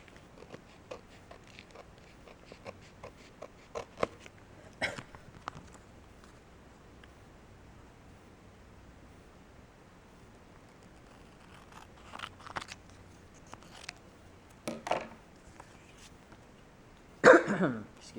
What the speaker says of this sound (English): So I will be cutting out this one.